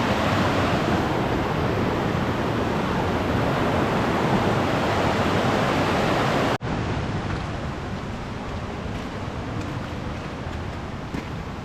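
Fast-flowing floodwater rushes over a flooded bridge in the hills, a dense, steady roar close to the microphone that drops slightly in level partway through but never stops.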